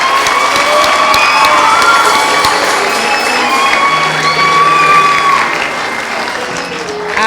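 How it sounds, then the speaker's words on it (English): A school audience at St Christopher's International School's speech and prize giving day claps and cheers for a guest, with children's shouts and whistles rising over steady, loud, dense clapping throughout. "let's clap for Mrs. Okale, please"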